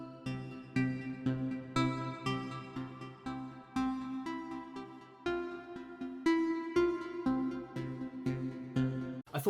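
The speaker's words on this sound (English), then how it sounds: "I knew I wanted to make a piece around the generative tools in Arturia Pigment" Generative synth melody from Arturia Pigments: a steady stream of plucked, bell-like notes in a shifting pattern over a sustained low tone, evenly loud throughout with no voices.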